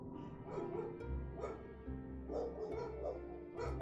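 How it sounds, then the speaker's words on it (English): Pet dogs bark in a quick run of several sharp yips and woofs, fairly faint, over a steady musical backdrop from a video game. "course my dogs bark"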